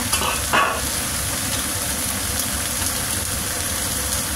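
A pot of water boils hard on a stove, a loud steady bubbling roar with a brief clatter near the start, continuous throughout and with no voices.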